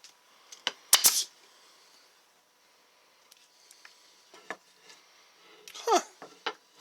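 Arrow PT50 pneumatic stapler firing staples into a piece of mahogany-like wood, giving a few sharp, close snapping bursts spaced apart with quieter handling clatter in between.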